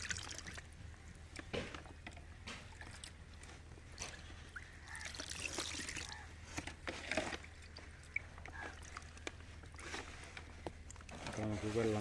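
Water trickles slowly onto soil covered with a plastic sheet, a soft, uneven pour outdoors, partly under people talking.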